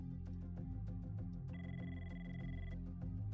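A telephone rings repeatedly in a scene from a Mr. Robot episode, with a steady electronic ring over a loud, dense music bed. No one speaks.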